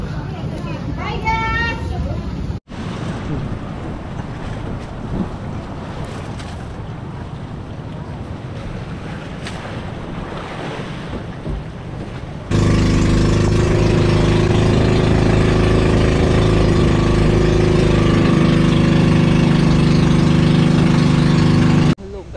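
Wind and waves wash loudly around moving tour boats heading to the Puerto Princesa Underground River, ending in a strong steady engine drone, with a few voices faint underneath.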